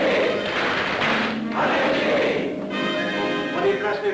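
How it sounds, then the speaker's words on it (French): Members of a Masonic lodge in a 1943 French film perform the ritual triple battery of clapping with a collective acclamation: a crowd of voices rings out together over dull thumps, loud and sustained throughout. "par le signe, la triple batterie et l'acclamation"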